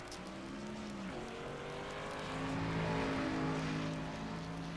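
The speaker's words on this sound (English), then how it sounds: "Cars starting to roll out on the track for qualifying." Stock cars from a 2008-era NASCAR Cup Series game at Atlanta roll slowly onto the track, several engines droning at low revs with gently rising and falling tones, steady and close with no talk over them.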